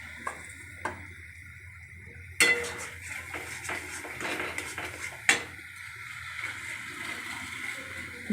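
Carrot and raw sandesh mixture for gajar barfi being stirred in a metal pan, with close spoon scrapes and clanks against the pan over a soft cooking hiss, no talking.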